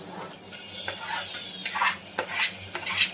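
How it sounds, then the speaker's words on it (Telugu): Onions fry in a pan for pulao as a utensil stirs them repeatedly, with rapid scraping and clinking strokes over a close, moderate sizzle. "ఆనియన్స్ ఫ్రై అయ్యేంత వరకు ఫ్రై చేసుకోవాలి"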